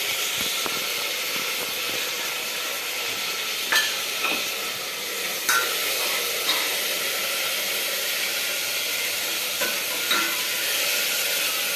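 Ingredients for haleem sizzle and fry steadily in a hot pan, a continuous bright hiss with a few soft stirring knocks close by, no talking.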